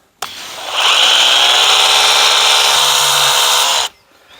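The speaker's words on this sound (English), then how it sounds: "we're going to put it on rinse, and we're going to soak it down before we put our foam blaster on" A Ryobi EZClean pressure washer sprays on its rinse setting in one steady, loud hissing burst of about three and a half seconds that starts and stops abruptly, heard up close with no talking.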